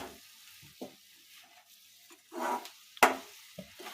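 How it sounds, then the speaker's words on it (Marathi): Coconut burfi mixture scraped and stirred in a pan, with intermittent soft scrapes and one sharper knock of the spoon against the pan near the end, fairly quiet overall with no talking. "हे चांगलं आपण मिक्स करून घेतो"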